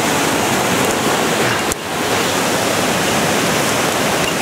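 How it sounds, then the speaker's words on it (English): A waterfall roars in steady rain, a dense, loud, continuous rush of white noise with one brief dip partway through. "Oh, look at that waterfall over there."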